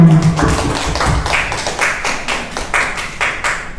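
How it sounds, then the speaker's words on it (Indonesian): A small group of teachers claps at a school mentoring session in a vocational high school, sharp individual hand claps fairly near and loud, loose and uneven rather than a full roar. "Tepuk tangan untuk kita semuanya"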